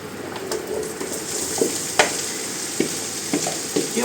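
Brussels sprouts fry in a pan for a rustic skillet dish. The sizzle is close and steady, marked by a few sharp clicks and scrapes of a utensil against the pan, with no voices.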